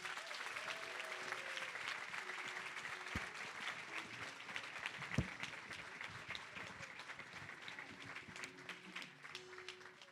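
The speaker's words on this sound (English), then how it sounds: "Let's celebrate, everyone, with another big round of applause" Crowd applause at a scholarship awards ceremony, a steady, fairly distant wash of many people clapping together, with a couple of sharper knocks partway through.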